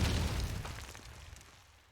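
A grenade goes off in Call of Duty 2 during a competitive match, a single loud burst at the start that rumbles and fades away over about two seconds.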